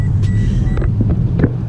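A car with aftermarket Borla UEL headers rumbles loudly with a deep, throaty exhaust note, close to the microphone, with a few faint clicks on top.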